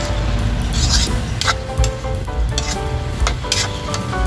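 Chicken afritada sizzles and fries in a pan while being stirred, with steady crackling frying noise and a few soft utensil clinks against the pan, continuous throughout at close range.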